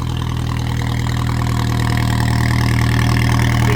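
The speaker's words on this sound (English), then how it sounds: "Just starting her up, haven't started her up in a while. Right now the valve for the exhaust is open." An Alfa Romeo 4C with a GMS valved exhaust, valve open, idles high right after a cold start, a loud, steady, throbbing drone close to the tailpipes with no voices.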